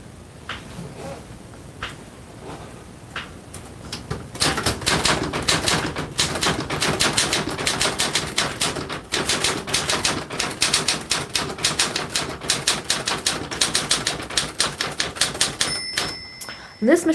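Fast typing on a manual typewriter, a dense rapid clatter of keystrokes close by, building after a few sparse taps and ending with a carriage bell and return.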